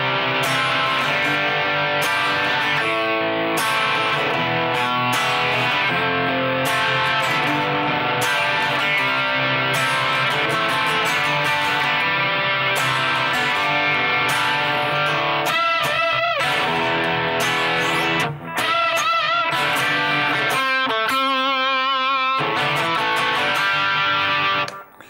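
Distorted electric guitar playing the vocal melody figure of a song, a continuous sustained line with bends and rapid tremolo passages near the end, loud and alone.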